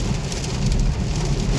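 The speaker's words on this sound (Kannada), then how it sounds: "ಮಳೆ ಬರಾಕತ್ತೈತಿ. ಸಣ್ಣ ಜಿಟಿ ಐತ್ರಿ, ಜೋರ್ ಐತ್ರಿ ಮಳೆ" Heavy rain pours down on a bus traveling to a temple on a pilgrimage, a loud, dense and steady hiss of drops drumming close by, with no voices.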